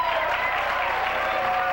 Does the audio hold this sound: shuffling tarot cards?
no